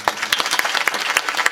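Audience at a Hindu religious discourse during a harinaam saptah at a Vitthal Rukmini temple clapping in a brief, loud rhythmic burst, with sharp regular hand claps close by and no talking.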